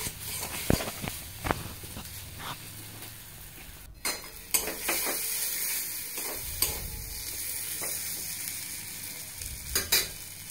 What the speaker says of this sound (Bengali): দিয়ে বেশ ভালো করে কষিয়ে নিতে হবে যতক্ষণ পর্যন্ত না পেঁয়াজ আর আদা রসুনের কাঁচা গন্ধটা চলে যায়।